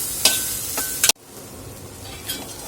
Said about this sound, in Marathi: आणखीन थोडंसं आपण याला भाजून घेणार आहोत साधारण आपल्याला भाजायला पाच ते आठ मिनटं तरी लागतात